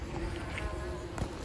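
Honey bees buzz at a modest-sized hive in September, a dense steady drone close by with no voices.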